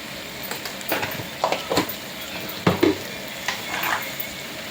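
Moong dal with tomatoes and salt is stirred in a sizzling pan, with a spoon scraping and clacking against the metal in uneven strokes over a constant low frying hiss.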